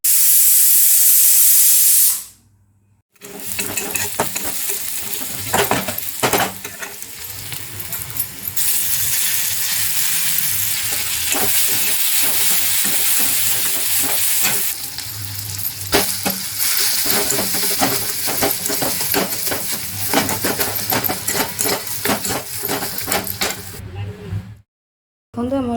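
Onions, coriander, tomato and garlic sizzling in a hot pan for a simple home meal, a loud sputtering hiss that starts abruptly and carries on with crackles and clinks of stirring before cutting off.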